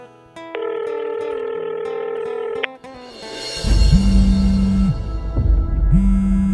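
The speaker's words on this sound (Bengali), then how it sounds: "একবার ফোনটা করে দেখি" A telephone call is placed: a steady electronic tone sounds first, then pauses, followed by repeated ringback tones with some background noise and faint voices.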